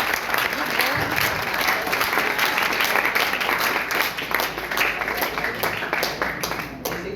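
Audience applause and clapping for a pilot at a competition event, a loud, dense burst of many hands that stays steady throughout, with some crowd voices mixed in.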